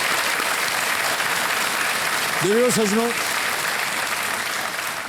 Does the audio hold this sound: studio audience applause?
yes